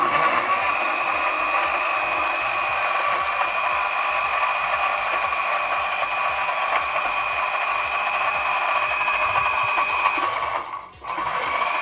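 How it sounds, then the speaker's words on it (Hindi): A kitchen blender grinds chutney ingredients with a little water, a steady loud whirring drone running continuously before briefly dipping near the end, with no talking. "हाणे उन्हनि खे ग्राइंड कंदासीं।"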